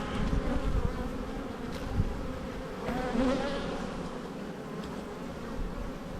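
Honey bees swarm around an opened hive during an inspection, a steady dense buzz that hovers close and continuous throughout, with no voices.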